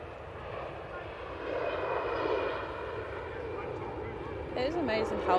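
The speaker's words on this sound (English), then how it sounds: "EasyJet on the roll." An easyJet jet airliner on its takeoff roll at Manchester Airport gives a steady, moderately distant engine roar that swells slightly over the clip. Faint voices and background chatter sit underneath.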